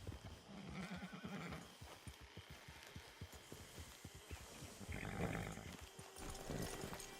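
Horse in the Red Dead Online video game whinnies twice amid steady clip-clop hoofbeats, all fairly faint, with no one speaking.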